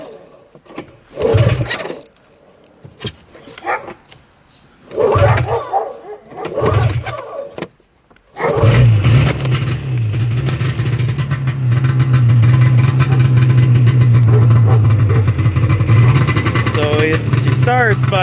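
A 1994 Polaris-style PZ480 snowmobile engine that is hard to start, cranked a few times in short bursts before catching and running steadily and loudly with a rough, buzzing drone at close range.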